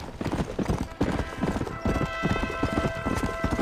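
Horse hooves clip-clop in a steady rhythm in the Western video game Red Dead Redemption, close and fairly loud, with a brief whinny and background game ambience mixed in.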